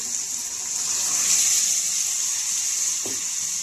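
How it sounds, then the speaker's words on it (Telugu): The remaining dal water is poured into a pot of tamarind-leaf and amaranth dal, making a steady, close, hissing gush of liquid that runs without a break throughout. "ఇప్పుడు ఇదిగోండి మిగిలిన కట్టు పోసేస్తున్నానండి"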